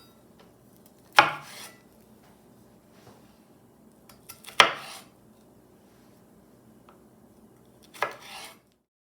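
Knife slicing rinsed cranberries in half on a cutting board for fruit and nut muffins: three separate sharp cutting knocks spaced a few seconds apart, close and fairly quiet, with quiet pauses between and no talking.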